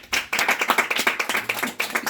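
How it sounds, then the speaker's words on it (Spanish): A church congregation at a service in Baranoa, Atlántico, Colombia, claps in quick, uneven bursts, a close, crisp patter of hands with small gaps between volleys. "Dale un fuerte aplauso que es parecido."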